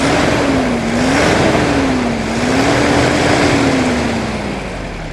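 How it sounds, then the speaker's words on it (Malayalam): 2014 Toyota Fortuner engine running after being started, lightly revved with a loud, close diesel drone that rises and falls in smooth waves, turbo hum audible, no voices over it. "വണ്ടി സ്റ്റാർട്ട് ചെയ്ത് സോ നമുക്കൊന്ന് ജസ്റ്റ് ലൈറ്റായിട്ടൊന്ന് റെവ് ചെയ്യാം"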